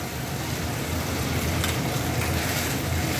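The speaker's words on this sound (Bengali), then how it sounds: "এটা এর সঙ্গে আবার একটু কষাতে হবে" A spice paste of fennel, mustard seeds, black mustard, cashew and curd sautéed in a pan gives a steady, dense sizzle with faint scraping, continuous and close for a few seconds, with no voices.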